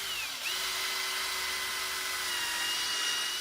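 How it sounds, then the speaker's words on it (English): A power drill whines steadily and close, pre-drilling laurel branches for screws while building a giant bird's nest for a playground, one continuous high-pitched run with a brief dip near the start. "I pre-drill and attach each branch multiple times with epoxy-coated trim head screws"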